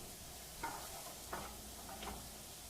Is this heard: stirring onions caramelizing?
yes